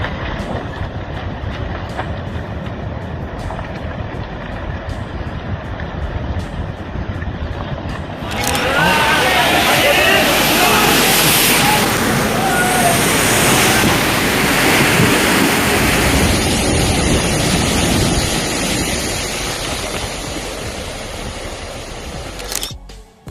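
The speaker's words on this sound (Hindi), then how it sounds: "2020 के दौरान नॉर्वे में रिकॉर्ड हुई इस लैंडस्लाइड की घटना के दौरान जमीन का बड़ा हिस्सा समुद्र में समा" A landslide in Norway carries a large mass of land into the sea: a steady background rush swells suddenly into a loud, roaring, churning wash that sustains for several seconds before easing off.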